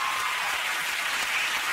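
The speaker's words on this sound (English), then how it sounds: "So give yourselves a round of applause." A television studio audience at a charity fundraising chat show applauds in a brief, dense, steady wash of clapping with no distinct individual claps.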